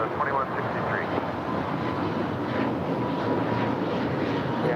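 An Airbus A321neo airliner departs at LAX with a steady, loud jet roar that fills the whole stretch, while voices talk faintly over the engine noise.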